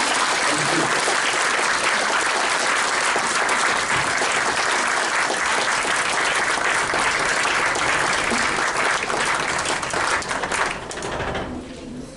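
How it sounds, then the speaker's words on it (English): Sustained, dense applause from an audience after a talk on trade and tariffs, loud and steady for about ten seconds before tapering off at the end. "Can we get a round of applause for that?"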